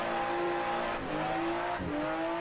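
Toyota A90 Supra drift build with about 530 horsepower revving hard in Assetto Corsa, a steady loud engine drone climbing in pitch with a quick downshift blip near the end, alone with no talk.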